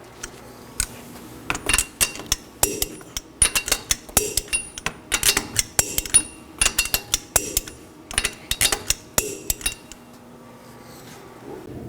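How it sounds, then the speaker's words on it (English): Lug nuts on a 2014-2019 Nissan Sentra rear wheel being torqued to spec in a crisscross pattern, a run of sharp metallic ratchet clicks and clanks in irregular bursts, fairly close, with no talking. "I'm going to torque my fasteners to 83 foot-pounds in a crisscross pattern."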